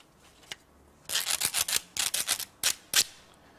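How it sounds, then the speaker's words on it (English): A series of short, bright scraping strokes in quick irregular bursts, close and crisp, after a single faint tap. "Or you could scrape something."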